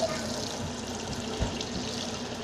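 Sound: water from a tap running over a spoon like a fountain

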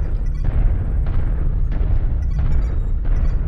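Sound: airstrike explosions in a mech combat video game

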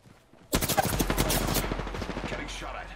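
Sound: gunfire in the video game Apex Legends

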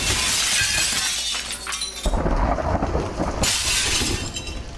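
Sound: glass breaking in the video game Receiver 2

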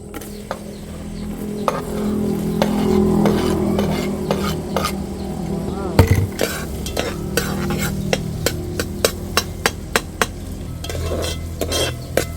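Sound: onion sautéing in butter for carbonara

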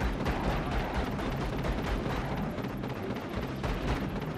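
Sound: Contra machine gun firing and exploding in a video game

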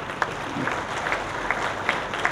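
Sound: audience applause at an awards ceremony

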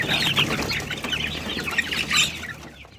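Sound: chicks eating feed, farm chicks feasting

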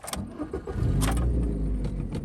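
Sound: VAZ 2110 car engine starting

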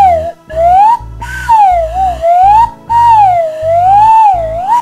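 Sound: homemade carrot slide whistle being played

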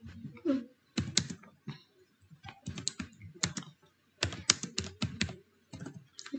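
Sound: typing on a computer keyboard

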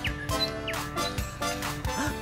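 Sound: birds chirping in a cartoon

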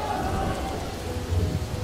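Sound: rain

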